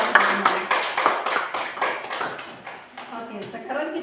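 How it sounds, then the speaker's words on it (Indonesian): Third-grade classroom applause for the first discussion group: a quick, rhythmic run of claps fills the room, fairly close and even-paced, with children's and a teacher's voices talking around it. "tepuk tangan untuk kelompok 1"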